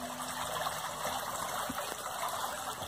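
Water trickles and gushes steadily inside an echoing sewer drain pipe, a continuous close wash of liquid with faint splashes and no voices.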